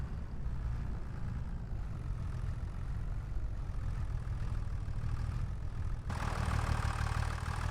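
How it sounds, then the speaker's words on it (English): A tractor engine idles in Farming Simulator 25, a steady low rumble holding at one level, with a slight shift in tone near the end and no talking. "Let's just turn this tractor off for now."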